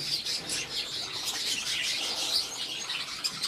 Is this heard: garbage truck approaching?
no